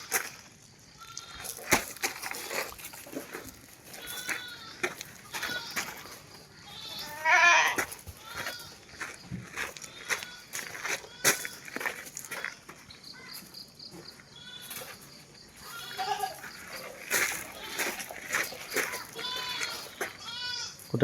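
Goats for sale, including a large mother goat with kids about a month and a half old, bleat repeatedly nearby amid a person talking, with insect chirps in the background.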